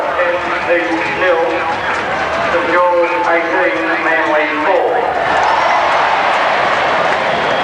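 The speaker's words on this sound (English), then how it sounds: "That roar from the crowd is the ground announcer giving over scores" A crowd at Leichhardt Oval roars during a 1984 Balmain versus Parramatta rugby league match. A commentator talks over the crowd noise, then a broad, rising roar swells loudly and holds through the end.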